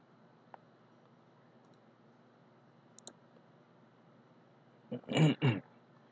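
A computer mouse clicks faintly in a quiet room, with a single tick early on and a quick double click near the middle, followed by a louder short burst of voice.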